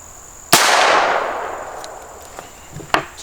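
A CCI SGB round fires from a snub-nosed revolver as one sharp, loud shot whose echo fades slowly over about two seconds. Faint clicks and small knocks follow near the end.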